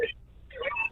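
Electronic telephone dialing tones beep briefly, with a short gap between them, under a voice speaking nearby.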